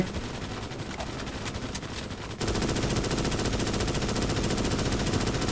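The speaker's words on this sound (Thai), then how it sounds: "ยิงไปครับยิงไปยิงไปยิงไปอย่าหยุดอย่าหยุด สาดกระสุนเข้าไป" Rapid automatic gunfire against alien bugs in the video game Starship Troopers: Extermination; sporadic shots give way to a dense, continuous rattling barrage that stays loud and unbroken.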